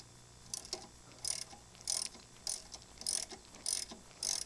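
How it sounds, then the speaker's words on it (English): A ratchet wrench tightening the brake caliper bolts on a Subaru WRX during a brake pad install, with short bursts of close, clicking ratchet strokes repeating at a steady pace and no talk. "go ahead and take your wrench here and just tighten them back up again"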